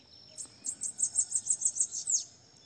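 A bananaquit just out of molt sings a short song of about a dozen quick, high, evenly spaced chirps, close and fairly clear over faint background hiss.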